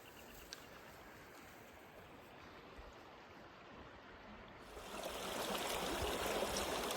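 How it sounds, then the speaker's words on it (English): Black River in Arizona flows steadily as a continuous broadband rush of stream water, fairly faint at first and growing louder and fuller after about five seconds, with no voices. "But we made it to the river. There she is, Black River."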